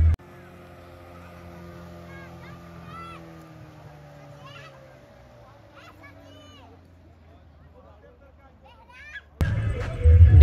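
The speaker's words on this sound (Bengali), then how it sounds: "আর এই লেকের জলে চলছে বোটিং।" Motorboat engine droning on the lake at Khandoli Dam near Giridih, a low steady hum at moderate distance with a voice talking over it, ending in a sudden louder rush of noise.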